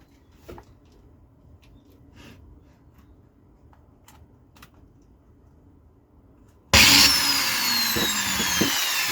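A repaired electric drill machine starts up abruptly after a stretch of quiet clicks and handling noises, then runs with a steady, loud, bright whirring hum until the end, close by and with no talking.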